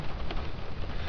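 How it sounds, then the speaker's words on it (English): Heavy rain drumming on the roof of a parked car, a dense, steady hiss of close impacts with no pauses, heard from inside the vehicle with no voices. "if you can hear the rain coming down on the roof of my car"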